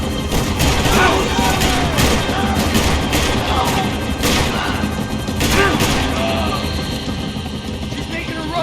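Rifle gunfire in the video game Max Payne 3 rattles in sharp repeated bursts over a loud, constant roar like a helicopter, with crashes and impacts mixed in and in-game voices talking over it.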